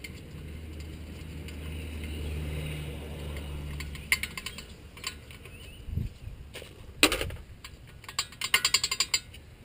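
Ratchet wrench loosening the 18mm strut bolts on a VW Jetta TDI front suspension: low mechanical rumble, then rapid clicking ratchet bursts in short irregular spurts, close up.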